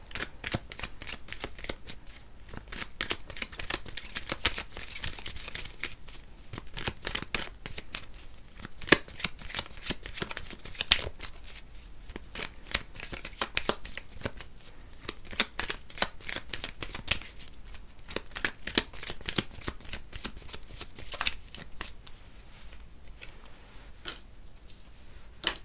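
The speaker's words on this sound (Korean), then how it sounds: "그래서 제가 추가 카드를 한번 뽑아볼게요." Tarot cards shuffled by hand in a steady, dense patter of crisp riffles and flicks, close and continuous for about twenty-five seconds, with no voices.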